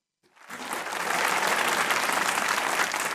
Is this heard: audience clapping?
yes